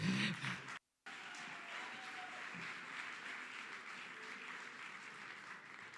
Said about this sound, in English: Give up a frothy round of applause for Mr. Mark Rickert